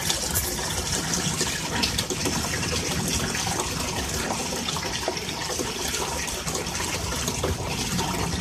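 A water siphon fills and drains with a loud, constant rush of flowing water close by, a dense unbroken gushing with no voices.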